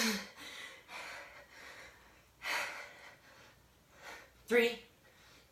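A person pants and gasps in heavy bursts after a Tabata workout circuit, breaths loud and close with uneven pauses between them.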